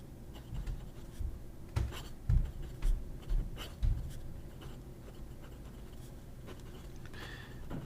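A fountain pen with a fine number 5 nib writes on paper, giving a series of soft scratchy strokes with brief louder taps, then light continuous scratching near the end, close and alone.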